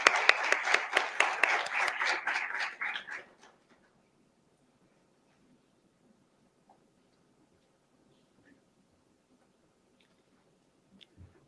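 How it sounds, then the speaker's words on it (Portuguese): An audience applauding a speaker at a lecture, a burst of dense clapping for about three seconds that stops abruptly, leaving near silence with a few faint scattered noises. "Por favor, uma salva de palmas."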